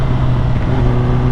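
A 2023 Kawasaki ZX-10R sport bike on a break-in ride gives a steady, loud engine drone as the throttle is cracked open, a close, continuous roar with no voices over it.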